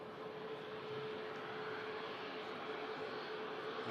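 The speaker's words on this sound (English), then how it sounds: "TUI Dreamliner rotates." A TUI Boeing Dreamliner jet rotates on takeoff, a steady broadband engine roar that stays even and fairly distant for the whole stretch, with no voices.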